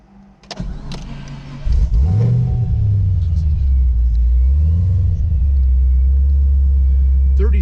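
A 2010 Chevrolet Camaro SS with a Kenne Bell supercharger, its engine rumbling loud and steady while driving, with deep revs rising and falling from inside the car after a brief mechanical start.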